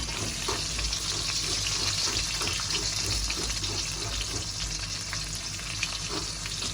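Onions fry in hot oil for a feast-day meat curry, a constant bright sizzle with a watery, bubbling texture and faint stirring beneath.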